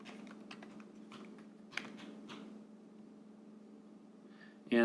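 Light tapping on a tablet's on-screen keyboard while entering a comment, a quick irregular patter of soft close taps under a faint steady hum.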